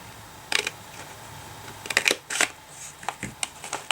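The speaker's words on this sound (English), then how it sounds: "So see, I just gave that a trim there." Scissors snip through stamped paper in a few short, close crisp cuts, a sparse cluster of quick clicks against a quiet room.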